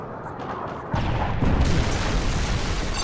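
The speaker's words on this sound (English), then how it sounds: "Friendly Predator missile inbound." A Predator missile strike in Call of Duty Modern Warfare 3 multiplayer, heard as a sudden deep explosion that swells into a sustained rumbling roar, loud and fairly close, with no talk.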